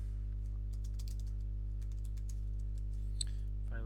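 Someone types a password on a computer keyboard: a quick, irregular run of crisp key clicks over a steady low electrical hum, with one sharper tap near the end.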